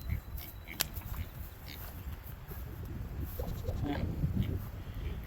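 Goats in a farm goat pen bleat in short, scattered calls over a low rumble of movement and outdoor noise, growing a little busier toward the end.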